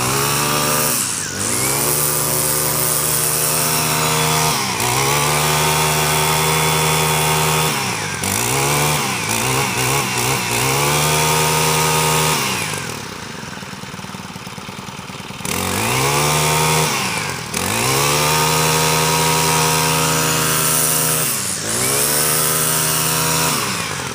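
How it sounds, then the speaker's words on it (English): A Honda four-stroke string trimmer engine runs close and loud with a steady, smooth idle, revving up briefly several times and dropping to a quieter lull midway before settling back into its even drone. "It's very smooth idling after because it's a 4-stroke engine on her too."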